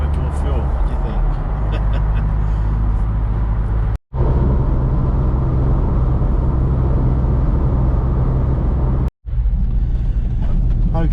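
A Smart Car cruising on the M4 motorway, with a steady loud broadband road and engine roar throughout and two brief dropouts, while a person talks over it.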